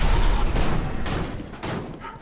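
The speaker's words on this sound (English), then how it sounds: "Couple of shots on him" Several loud, close gunshots in Fortnite fire in quick succession, three or four sharp cracks about half a second apart over a dense rumbling background, fading slightly toward the end.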